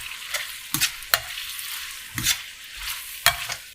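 Pasta aglio e olio with parsley and lemon juice is stirred in a pan, producing a soft continuous sizzle broken by several sharp scraping and clinking strokes of the utensil, fairly close and moderately quiet.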